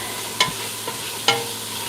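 Red onion and yellow pepper with celery sizzle steadily in a pan, a close, even hiss broken by two brief scraping clicks of a utensil stirring the vegetables.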